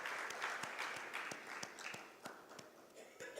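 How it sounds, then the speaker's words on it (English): An audience at a climate innovation event claps faintly, a soft continuous patter broken by sharper individual claps, with no voices over it. "A round of applause for him as he joins us up here."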